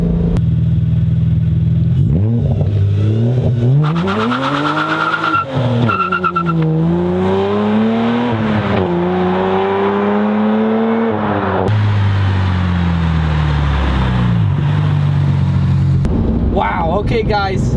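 Car with a clutch-type limited slip differential launching hard from a standstill, engine revving up through rising and falling harmonics with rough scrabbling and a voice talking over it.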